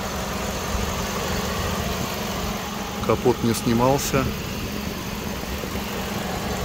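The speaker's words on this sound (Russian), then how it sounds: "работа двигателя внутреннего сгорания" A 2004 Hyundai Getz with a 1.3-litre petrol engine and automatic gearbox idles with the hood open, giving a steady low hum throughout while someone speaks briefly partway through.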